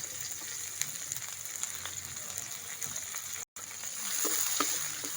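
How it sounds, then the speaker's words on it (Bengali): Chopped onion and green chilli fry lightly in oil with tempering spices, giving a soft, even crackling sizzle close by, with faint stirring clicks and one brief dropout near the end. "তো পেঁয়াজটাকে হালকা করে ভেজে নেব।"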